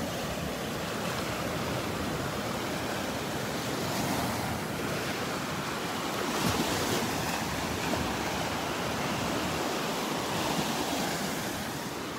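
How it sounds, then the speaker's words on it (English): Steady ocean surf rolls and crashes continuously on the beach and under the pier at Naples, broad and full, with a slight swell midway; wind hiss sits over the water and no one speaks. "I love the sound of these waves crashing on the beach and under the pier."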